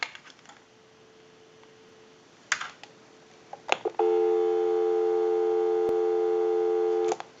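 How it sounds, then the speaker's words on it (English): Steady telephone dial tone sounding loud and continuous for about three seconds on a line routed through a switch box, preceded by a few short clicks and a faint low hum. "Go ahead and give you some dial tone."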